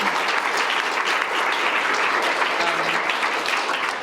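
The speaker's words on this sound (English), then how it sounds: "Let's give them a round of applause" A room of attendees applauds a science panel, sustained loud clapping with a broad crowd wash that stays full and even before fading slightly at the end.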